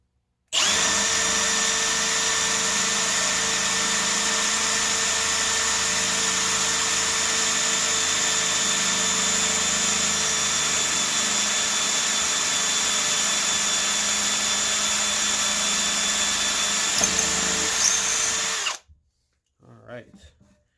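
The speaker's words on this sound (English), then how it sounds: "here's the 1/4 Ryobi drill" A Ryobi drill with a 1/4 inch chuck whines in one loud, steady run of about eighteen seconds close by, then stops abruptly, followed by brief faint handling noise.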